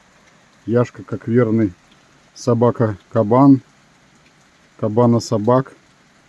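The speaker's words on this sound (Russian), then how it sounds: "Дождь очень сильно такой. Дождь усилился" Heavy rain falls in a cold, damp autumn forest, a steady soft hiss running throughout beneath a man's short bursts of speech.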